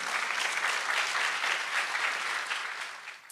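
Audience applause at a business conference talk, a dense steady clapping from a seated crowd that holds for a few seconds and then tapers off toward the end.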